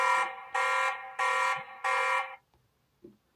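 A Tapo C200 surveillance camera in a caravan sounds a loud electronic alarm in four long, evenly spaced harsh buzzes, then cuts off to near silence with a faint click.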